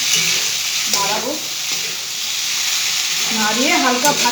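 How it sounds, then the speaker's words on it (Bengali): Pasta stir-frying in a pan with soy sauce added, giving a steady hiss and sizzle with intermittent scraping stir strokes. A voice talks briefly between the strokes. "তারপরে নাড়াবো"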